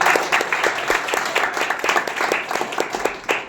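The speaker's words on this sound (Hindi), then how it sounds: "एक बार जोरदार ताली" An audience at a CSR event claps together in dense, loud applause, with the claps running steadily for a few seconds close by.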